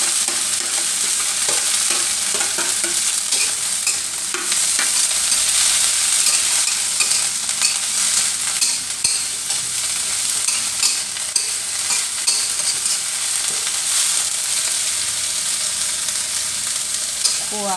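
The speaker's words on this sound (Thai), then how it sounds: "ขัวข้นไปเรื่อยๆจนว่ามันแห้งหมดแล้วค่ะ" Insects are stir-fried in a little oil with kaffir lime leaves and sliced lemongrass, giving a loud, continuous sizzle with scraping stirring throughout and no talk.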